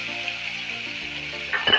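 Chopped onion, shallot, garlic, ginger and green chili frying in hot oil for a pappadam curry, giving a steady close sizzle with a brief scrape of stirring near the end.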